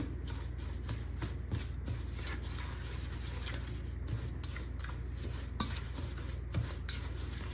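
Brown sugar, white sugar and butter churn together into cookie dough, a soft continuous scraping and stirring texture with occasional light clinks, steady and fairly quiet.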